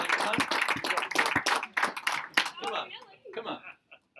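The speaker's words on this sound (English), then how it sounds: "let's give him a round of applause." A small meeting crowd claps in loose, uneven bursts that thin out and fade toward the end, with talking mixed in among the claps.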